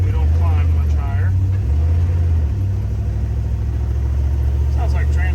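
A Dodge Charger running with a salvage-yard transmission that sticks between gears, producing a loud steady low engine rumble with slight dips in pitch, while voices talk briefly over it.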